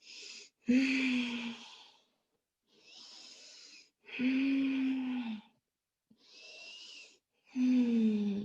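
Slow, deep yoga breaths during an Ashtanga practice, four long audible inhale-exhale cycles with a breathy, slightly wheezy rasp, close to the microphone and separated by short silences.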